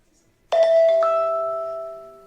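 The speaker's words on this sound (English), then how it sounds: "This is the bell" A single struck bell signalling that a speaker's time is up at a ward councillor candidates' debate, ringing out loud and close with a sharp onset and a long, clear ringing decay.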